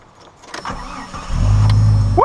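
A broken-down car engine with a disconnected pipe being cranked at a camp site: a few clicks and a short struggling crank, then the engine catches and settles into a loud, steady idle.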